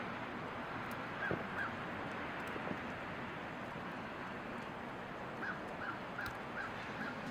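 A crow caws in the background outdoors near a forest of native white pine, maples and larch trees. A few short, distant calls come in two bursts over a steady wash of wind noise.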